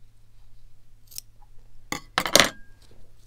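Scissors cutting fabric for Easter eggs: a few short, crisp snipping sounds close by, bunched together after a quiet stretch with a faint background hum.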